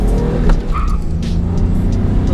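A V6 Mustang pulls hard in first gear, its engine roaring close under a brief, short tire chirp as the rubber breaks loose.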